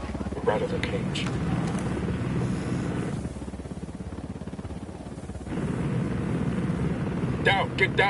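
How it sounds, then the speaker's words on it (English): A helicopter in the shooter game Ghost Recon Wildlands gives off a steady, loud rotor-and-engine rumble that dips for a couple of seconds midway and then swells back, with brief game noises on top. "Down, get down, chopper."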